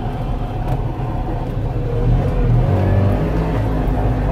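Trabant 601 driving on a road, a steady close low engine drone heard from inside the car, swelling slightly louder as it pulls along, with no talking.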